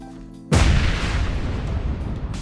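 A grenade in the survival game Ra Survival explodes close by with a single loud, sudden boom that rolls into a long rumbling decay.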